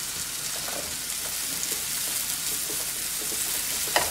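Red, yellow and green bell peppers frying with ginger and garlic for corn capsicum pulao, a soft even sizzle with light stirring scrapes and a small knock near the end.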